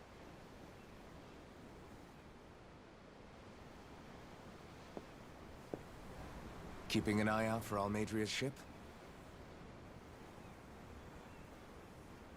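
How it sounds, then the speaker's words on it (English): Steady ocean waves wash beneath a boat deck in the video game Tales of Arise, a constant soft surf and wind bed running throughout while a voice speaks briefly near the middle. "The waves. They help me think."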